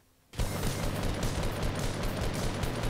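Fortnite gunfire erupting after a quiet moment: a sudden burst of rapid, overlapping shots that keeps rattling loudly and densely for over two seconds, like sustained automatic fire, with no speech.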